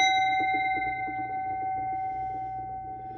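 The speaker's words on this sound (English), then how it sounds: "Let's ring the bell." A bell rung once and left to ring, its steady tones sustaining evenly across the clip at moderate loudness with no voices.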